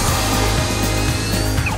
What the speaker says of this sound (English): use your 1/4-inch drill bit and drill a hole